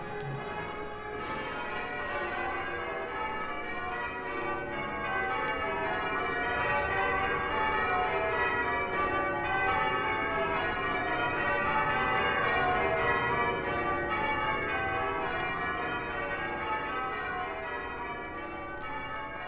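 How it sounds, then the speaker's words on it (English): The bells of Westminster Abbey ring continuously from high above during the 1965 service opening its 900th anniversary year, their dense, overlapping peal held at a moderate, somewhat distant level without speech. "to the music of William Walton's Crown Imperial March and the bells of Westminster Abbey high above"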